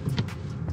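A Mitsubishi Triton off-road in first gear: a low engine rumble with brief mechanical whirs and thumps over under a second, close and steady in level, with no clear build in revs.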